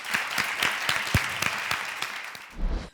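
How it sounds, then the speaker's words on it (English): Audience applause for mothers at a youth TEDx event, dense clapping building steadily and fading near the end, with a low thump as it closes. "Please, give a huge clap for our mothers."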